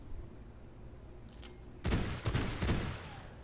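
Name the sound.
gunfire from guns in the video game V Rising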